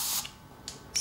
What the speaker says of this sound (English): A little bit of spray oil just to make sure you're going to get it out